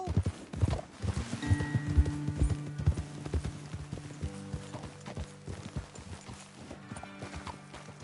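Horse hooves clip-clop in a steady walking rhythm, close by, in a video game, with a brief whinny and soft tonal music in the background.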